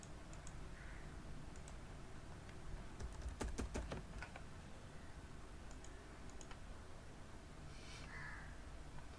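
Fast keystrokes on a computer keyboard come in a short burst of clicks near the middle, faint against a quiet room hiss, with a few isolated taps and a crow cawing in the distance.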